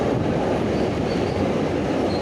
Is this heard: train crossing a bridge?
yes